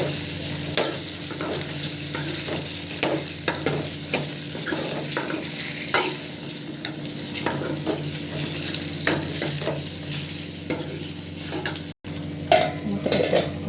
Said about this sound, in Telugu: ఇప్పుడు నేను చామగడ్డలు వేస్తున్నాను దీంట్లో